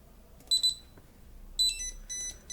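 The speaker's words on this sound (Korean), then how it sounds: "이런 패턴의 부저가 반복적으로 울리고 있습니다." Buzzer on an STM32 drone flight-controller board sounding a repeating pattern of short high electronic beeps in separate bursts, close and clear over a quiet background hum.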